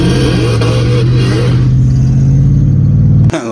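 Car engine revving hard to the rev limiter in second gear, a loud, close, rising roar that flattens into a stuttering limiter buzz before it abruptly cuts off.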